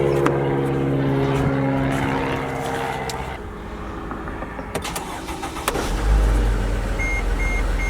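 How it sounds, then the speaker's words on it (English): A car engine is started, with a low rumble catching and rising near the end after a stretch of mechanical hum and idle noise, loud and close with no talking. "Start the car and see?"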